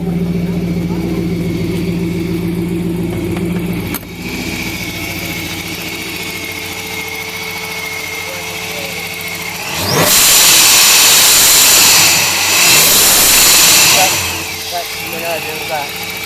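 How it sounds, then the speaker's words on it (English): A supercharged Porsche 928 V8 idles with a steady low burble, then is revved hard twice with a rising roar and whine before dropping back to idle; people talk nearby during the idle. "Let's just leave the engine running to hear the front, because I'd like to hear the supercharger as well."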